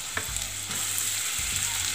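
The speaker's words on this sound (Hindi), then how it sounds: "अब हम सारी सब्जियों को मिक्स कर देंगे" Raw carrots, capsicum, beetroot and boiled peas being mixed in hot butter and oil for Mumbai pav bhaji, a bright steady sizzle with a low rumble of the burner and a few spatula knocks, close with no talk.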